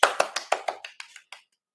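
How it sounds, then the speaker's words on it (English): Hand clapping in a few quick, sharp claps that slow down and fade out, close and fairly loud, with no talking. "Oh, I'm not supposed to clap."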